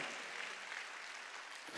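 A church congregation claps together during a Korean Sunday worship service, a steady dense wash of applause filling the room without pause.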